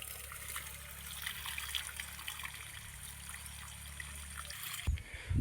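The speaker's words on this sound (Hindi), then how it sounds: "पानी बहुत ज़्यादा हो गया, इसलिए यहाँ का पानी निकाल रहा हूँ मैं" Water trickling and gushing as it is drained out of a home fish tank, a steady close stream that runs throughout before a sudden clunk and louder splashing near the end, with no talking.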